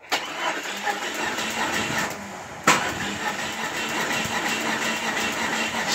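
Starter cranking a Jeep Cherokee XJ engine during a compression test, a steady churning drone that pauses briefly, then restarts with a sharp jolt and keeps turning over, fairly loud and close with no talking.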